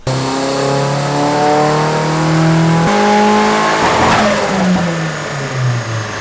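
A turbocharged car engine revs hard and climbs through the gears in a loud, sustained dyno pull, pitch rising then dropping at each shift, with turbo whine.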